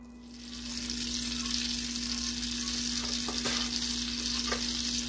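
Rice frying in melted butter in a pan, a continuous close sizzle that swells after the first half-second and holds steady, with a few faint clicks and no talking.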